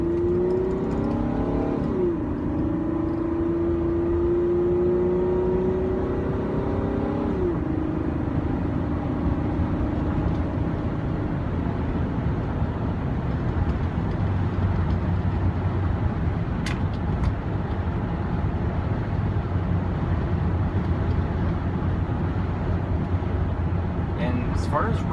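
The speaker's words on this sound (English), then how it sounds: "As far as road noise, this car is actually pretty quiet." A steady low road roar and tire hum fill the cabin of a moving car. An engine note rises early on, and a person talks inside over the constant noise.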